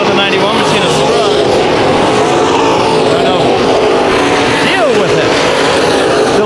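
A dirt track race car powers out of a turn at KCRP, its engine note rising and sweeping under a commentator's continuous talk, loud and close with rough, revving texture.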